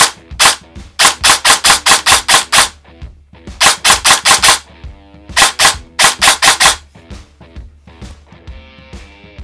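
An airsoft M4 replica built on a Mancraft CNC receiver with a V2 gearbox fires loud, crisp semi-automatic and rapid bursts of sharp clacking shots, close up, with short pauses between strings.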